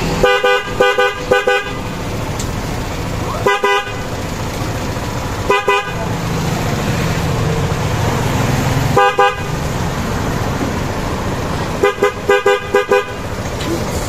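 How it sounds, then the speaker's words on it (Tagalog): A stock motorcycle horn, freshly wired in, beeps in short bursts: quick double and triple toots separated by pauses over a steady background hum, loud and close. "Naka-connect na rin yung yung busina natin"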